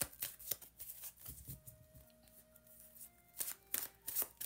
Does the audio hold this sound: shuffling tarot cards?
yes